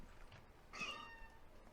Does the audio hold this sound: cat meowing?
yes